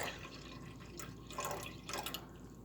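Milk poured into a pot for oats, a quiet, short liquid splash over a steady low hum, with a couple of slightly louder gurgles.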